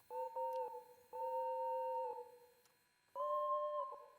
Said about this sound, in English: That's Gordon's whistle?